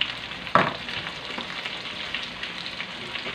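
Cabbage for pancit frying in a pan gives a steady sizzling hiss, with one sharp clatter near the start as it goes in, then continuous crackle.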